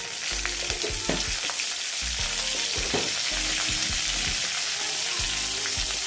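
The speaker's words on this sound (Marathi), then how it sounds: "मोहरी टाकल्यानंतर थोडी तीळ, हिरवी मिरची आणि कढीपत्ता." Mustard seeds, sesame seeds, green chilli and curry leaves sizzle steadily in hot oil for a Lauki dhokla tempering, a dense continuous crackle with occasional sharper pops throughout.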